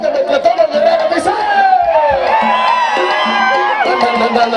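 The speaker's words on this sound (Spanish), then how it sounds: "Queremos ver qué tan fuerte grita la gente de Guerrero." A large crowd at a dance event in Metlatónoc, Guerrero shouts and yells loudly together in a sustained, rising collective cry, with overlapping voices close by.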